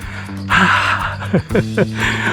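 After a fast uphill hike, heavy panting comes in quick, loud, close breaths, with gasping inhales and voiced exhales repeating in a short rhythm.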